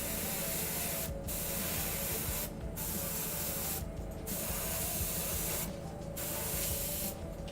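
Black primer sprayed from an aerosol can onto a pewter or plastic miniature: a steady, loud continuous hiss fills the clip, broken by about five brief gaps where the nozzle is released.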